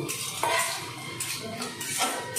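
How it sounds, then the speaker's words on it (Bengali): Broken wheat (dalia) being dry-roasted in a pan for upma, with a spatula scraping and clinking against the metal in irregular strokes, close and moderately loud, without talk. "তো ডালিয়াটাকে আমি একটু ভেজে নেব।"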